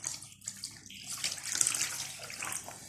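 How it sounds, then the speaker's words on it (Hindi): Water poured into a cooking pot holding a whole chicken for roasting, a steady splashing trickle that rises and fills the close foreground with no talk. "थोड़ा सा पानी में और ऐड करती हूँ इसके अंदर।"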